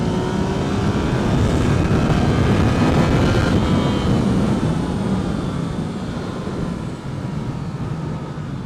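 A Yamaha MT-09 motorcycle engine drones loud and steady throughout, with broadband mechanical roar and rising tonal engine lines suggesting acceleration, no voices present.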